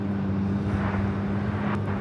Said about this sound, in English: Qantas A380 Super will now cross over to 4 left, head to the gates of Tom Bradley